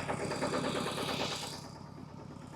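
A tractor engine chugs steadily while reversing, a close, rhythmic mid-pitched idle-like throb that stays even before easing slightly toward the end.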